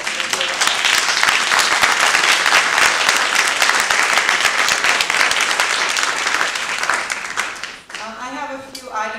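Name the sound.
audience applause at board meeting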